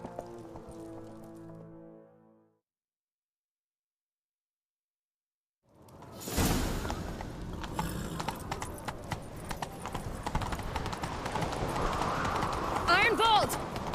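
Horse hooves galloping in The Witcher 3, a loud, steady clip-clop rhythm that starts abruptly after a silent gap and runs with rushing noise; voices speak early on.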